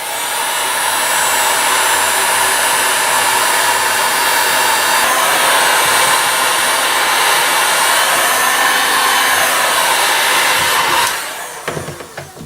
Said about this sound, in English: Use my heat gun. I'm gonna heat up this plastic here